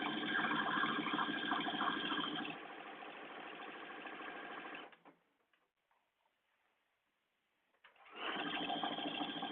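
A sewing machine stitching a seam on a duster coat, a steady rapid whirring run that stops for a few seconds of near silence and then starts up again, close and even.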